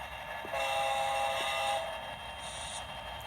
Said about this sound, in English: And now we're going to run that engine. It's a small train, couple of cars behind it.